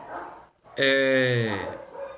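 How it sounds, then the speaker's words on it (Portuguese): A neighbourhood dog gives one drawn-out, whining bark-howl in the background, clear and fairly loud, after a moment of talk from a teacher giving a lesson. "Tem aqui barulho de cachorro, né, gente? Vizinhança aqui."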